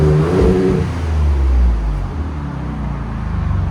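A Ford Raptor with a 3.5L twin-turbo V6 and Borla ProXS exhaust revs up close, a deep, loud engine roar that swells and then drops back toward a lower, steadier drone.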